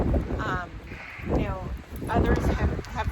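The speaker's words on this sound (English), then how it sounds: "I feel like that big gust of wind" A strong gust of wind roars across the microphone during an ice storm in Austin, Texas, loud and blustery, with a person talking over it.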